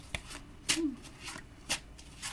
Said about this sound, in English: Last card I'm going to pull here.